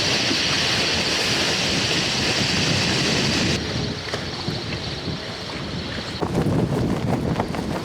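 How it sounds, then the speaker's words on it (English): Strong squall wind gusting over a rocking sailboat in harbour, a loud steady roar of wind buffeting the microphone with water and rigging noise, easing briefly midway before surging again. "So a sudden squall"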